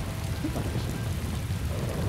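Heavy rain in a martial arts fantasy film scene, heard as a continuous, dense wash of falling water with a deep underlying rumble throughout and no clear speech.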